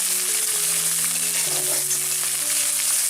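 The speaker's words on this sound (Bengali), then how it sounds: "ওই মশলাটা দিয়ে দিচ্ছি মশলাটা আমরা ভালো করে কষিয়ে নেব" Ground spice paste fries in a pan for raw banana kofta curry, a constant close sizzle with low steady tones humming beneath it.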